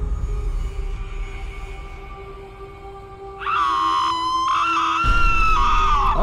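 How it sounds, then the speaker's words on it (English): A long, loud, high-pitched scream from a Thai horror movie trailer cuts in suddenly over low ambient music and holds for several seconds, wavering in pitch with a brief break midway. "Oh, Lord, that scream is..."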